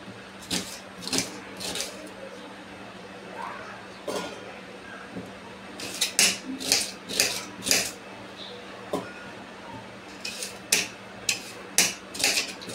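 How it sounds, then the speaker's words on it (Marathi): Two raw onions finely chopped on a board for a masala paste in a home kitchen: a knife taps in quick sharp bursts of clicks, pausing between runs, close and clear with no talk. "हे जे 2 कांदे मी घेतले होते ते परत थोडेसे बारीक करून घेते, वाटायचे म्हणून"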